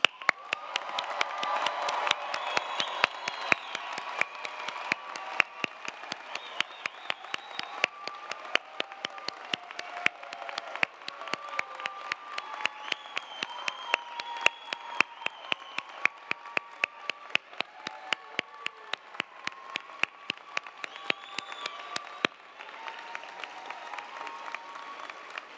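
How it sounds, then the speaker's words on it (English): Commencement audience at the UC Berkeley School of Information applauding its graduates in an auditorium, sustained clapping with scattered cheers and sharp individual claps over a soft crowd wash, continuing for a long stretch before trailing off. "Everyone, please join me in giving them one final round of applause."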